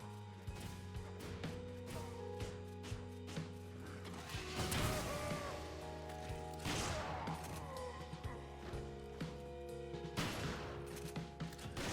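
Shotgun blasts and impact crashes in Resident Evil 5, repeated heavy booms layered over a dense, constant game soundtrack and ambient rumble.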